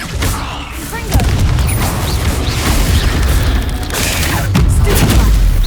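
Confringo explosion spell cast in Hogwarts Legacy, loud booming blasts and crashing debris in a dense battle mix, with a voice speaking briefly over it.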